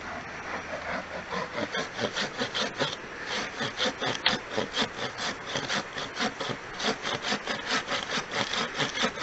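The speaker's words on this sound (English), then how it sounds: "It's just going to bind trying to saw it from the top." A hand saw with a sharp blade meant for small limbs cuts through a wood log outdoors, its steady back-and-forth rasping strokes close and rhythmic, repeating evenly throughout.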